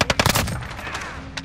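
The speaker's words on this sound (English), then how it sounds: "Just keep on shooting." Rapid machine gun bursts in a shooting video game, a few sharp shots at the start followed by sustained automatic fire, loud and close.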